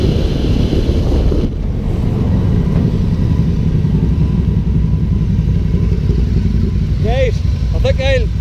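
A Citroën 2CV's engine runs steadily as a low, continuous rumble, heavily buffeted by loud wind noise throughout, with a few brief high chirping sounds near the end.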